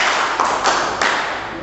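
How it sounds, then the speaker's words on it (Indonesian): A school class claps in rhythm: a few sharp, loud claps spaced evenly over a noisy room background. "ayo tepuk ya"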